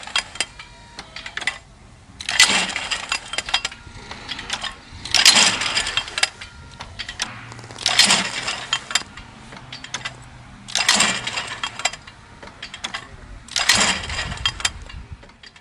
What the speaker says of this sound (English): what I would like to do now is just throw a couple of targets off each machine just so you can see how they both throw